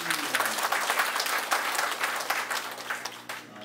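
Warm applause from a seated audience at a Korean hangung association ceremony, continuous dense clapping with a faint low musical hum beneath, tapering slightly near the end.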